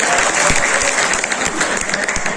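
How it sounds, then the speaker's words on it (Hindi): An audience at a municipal Holi gathering with poetry recitation in Kanpur claps steadily for a poet, producing dense, continuous applause that stays loud and even throughout. "अखिलेश द्विवेदी के लिए एक बार सारे लोग ताली बजा दीजिए।"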